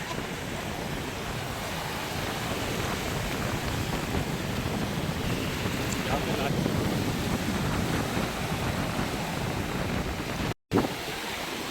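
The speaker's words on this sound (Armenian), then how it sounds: "Հյուսային ծովը փոթորկել է" Stormy North Sea surf and strong wind on a cold Danish shore, a steady roar of breaking waves buffeted by loud wind noise on the microphone, continuous and close, with a brief dropout near the end.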